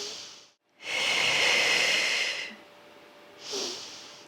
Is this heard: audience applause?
no